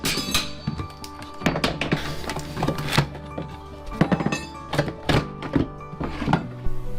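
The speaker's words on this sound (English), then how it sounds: "The first thing we need to do is get these baseboards off." Prying baseboards off a drywall wall during a demolition, a string of sharp knocks, clacks and wooden thunks at irregular intervals, close and fairly loud, with no voices.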